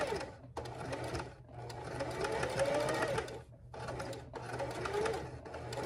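A domestic sewing machine runs a back stitch in quick rattling bursts, separated by short pauses as it stops and restarts. It sounds close and moderately loud, with no talking.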